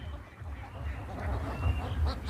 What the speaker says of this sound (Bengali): আমার পিছনে প্রায় দুই হাজারের মতো হাঁস রয়েছে